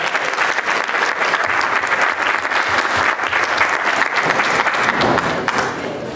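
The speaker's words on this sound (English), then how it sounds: "I think we should all give them another round of applause." An audience gives sustained applause, a dense, steady patter of many hands clapping close by, fading slightly toward the end.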